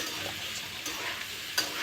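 Paneer frying in oil in a pan while being stirred, giving a soft continuous sizzle with faint scraping and one brief clink near the end.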